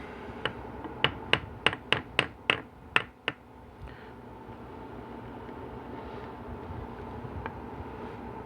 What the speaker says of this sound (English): We're going to give it a little bit of a love tap.